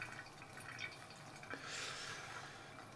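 Hot water trickles quietly from a kettle onto ground coffee beans during a pour-over brew, a faint close stream with soft drips and a slightly louder gush near the end.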